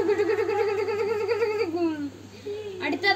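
A voice imitates a Bullet motorcycle starting up, with a close, steady buzzing hum that wobbles, then slides downward and cuts off before a short renewed burst, performed at a school welcome event.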